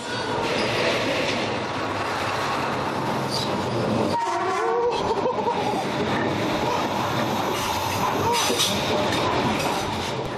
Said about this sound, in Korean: 저 멀리 기적이 울리며 기차가 들어옵니다